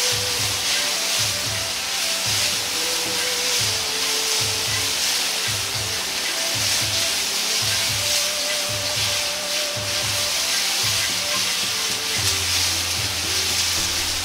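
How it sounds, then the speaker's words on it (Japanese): Meat and vegetables stir-fried with oyster sauce in a pan give a loud, steady sizzle, with rhythmic scraping and stirring of the utensil throughout. "肉から出た油を野菜に絡めるようにして炒めていきます。"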